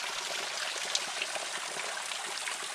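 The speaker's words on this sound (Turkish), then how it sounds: "İşte gördünüz şelale." A waterfall gives a steady, even broadband rush of falling water, with no voices.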